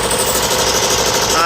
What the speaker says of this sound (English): This motor runs very, very smooth, and I'm very pleased with this motor so far.